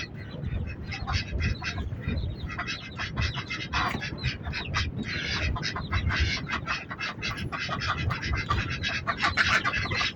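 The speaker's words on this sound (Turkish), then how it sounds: "Evet ödeklerimiz var. Yeşil ödek." Farm ducks, green-headed drakes with hens, quack continuously in a dense chorus close by, with scratchy rustling underneath and occasional faint voices.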